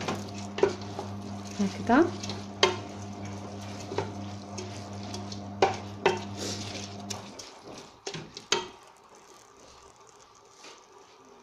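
Ingredients are stirred together in a bowl while preparing crispy oven-roasted chicken thighs. Close scraping and clinking strokes sound over a steady background hum that cuts out partway through, followed by a few quieter clicks.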